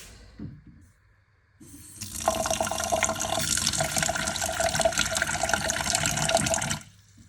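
Water gushes from a kitchen tap into a rice cooker pot sitting in a sink, starting after a quiet moment, running as a steady loud splashing stream for about four seconds, then stopping abruptly.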